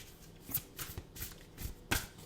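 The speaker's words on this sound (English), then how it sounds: "I'm currently shuffling the Woodland Wardens Oracle deck by Cicero Roux to choose a theme for the reading" An oracle card deck being shuffled in a quiet ASMR tarot reading: soft, repeated riffling and papery flicks in an uneven rhythm, close and gentle, with no talking.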